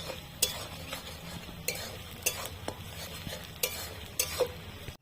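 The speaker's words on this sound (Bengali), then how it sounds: "এবার আমি কাঁচা লঙ্কা আর আদা রসুন বাটাটা দিয়ে আরেকটু ভালো করে কষিয়ে নেব" Green chilli and ginger-garlic paste fry with onion in a pan for chicken curry, a soft steady sizzle broken by repeated sharp scrapes and clinks of a spoon stirring against the metal, close and clear with no talk.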